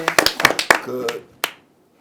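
A few sharp, close hand claps ring out in a talk-show studio, followed by a brief spoken voice and a final single clap.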